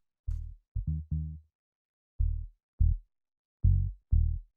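Deep FM synth bass built from three sine waves and passed through a low-pass filter, sounding as short, round, dry notes in a syncopated minimal tech house pattern, alone with nothing else playing.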